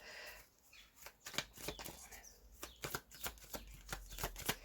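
Tarot cards are shuffled in rapid riffling bursts, a series of crisp flutters and taps heard close up and fairly quiet, with no talking.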